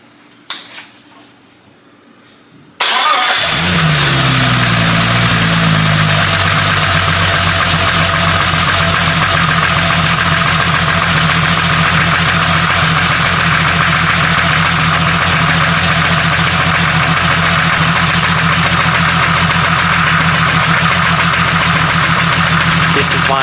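A Jeep 4.0 engine running on Lucas oil additive starts up after a couple of seconds of near-silence, then settles into a loud, steady idle. A constant rumble and a fine ticking rhythm hold unchanged for about twenty seconds, with no voices.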